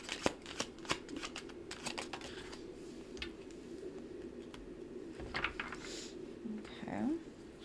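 Soft clicking and riffling of cards being shuffled in scattered bursts, close and quiet, with a faint voice murmuring briefly near the end.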